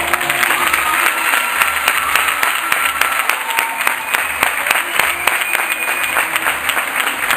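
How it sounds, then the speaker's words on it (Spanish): Audience applause for a troupe of belly dancers at a show, a dense, steady wash of many hands clapping close by, loud and sustained throughout without letup. "que suene fuerte ese aplauso"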